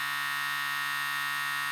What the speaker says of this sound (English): Sadly, the shaver is one of the loudest devices in our test with a noise level of around 67 decibels.